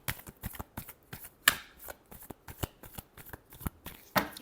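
Tarot cards being shuffled up close, a quick run of crisp riffling snaps and soft slaps in an uneven rhythm, with a couple of louder flicks standing out.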